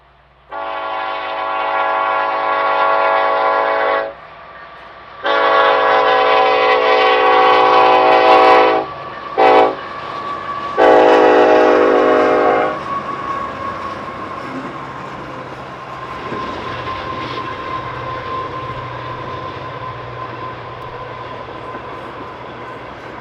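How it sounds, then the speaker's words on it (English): A freight train horn blasts in several long, loud bursts on a snowy day, then the steady rumble of the passing freight train continues underneath without any voices. "the cattle take flight from the approaching freight train"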